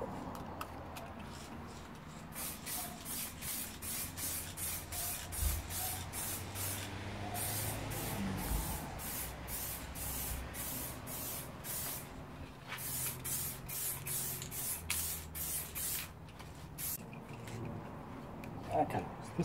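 A second coat of spray paint going onto a fuel tank: a rapid series of short, sharp hissing bursts from the spray gun, close and fairly quiet, separated by brief pauses.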